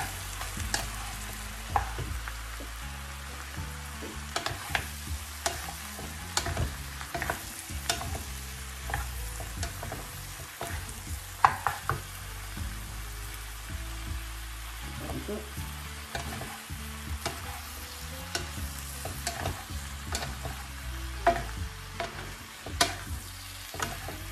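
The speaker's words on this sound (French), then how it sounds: "Ici, je vais rajouter les nouilles de riz. Petit à petit, je vais remuer." Rice noodles with vegetables and mushrooms stirred and frying in a pan, steady sizzle under repeated scraping and clacking strokes of the utensil throughout, close and moderately loud, no talking.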